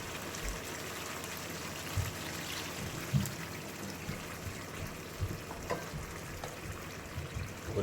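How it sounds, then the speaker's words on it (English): Water poured into a pot of mixed vegetable curry with potatoes, cauliflower, broccoli and carrots: a soft, steady trickle and splash running throughout at low level, with small clinks and bumps from the pot. "So what we need to do is add some water in."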